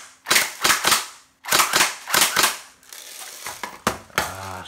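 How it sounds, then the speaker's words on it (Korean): A G3 SAS electric airsoft gun fires full-auto bursts close by, sharp rapid cracking volleys in several short strings separated by brief gaps, followed by quieter mechanical clicks. "연발 한번 쏴볼게요."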